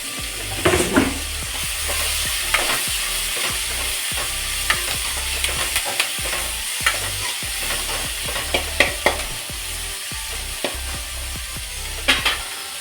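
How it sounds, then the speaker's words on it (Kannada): Curry leaves crackle and sizzle in hot oil for an egg curry, a loud steady frying hiss broken by sharp pops and stirring clicks, with no voices. "ಕರಿಬೇವು ಸೇರಿಸ್ತಾ ಇದ್ದೀನಿ"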